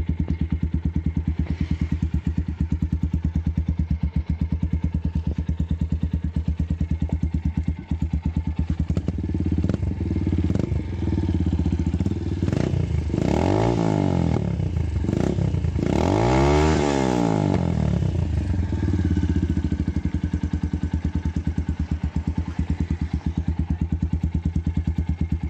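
Vintage-style motorcycle fitted with a D.O.P vase-shaped exhaust, idling with a firm, deep, moderately loud burble that stays steady. Two strong revs rise and fall near the middle, and no one speaks.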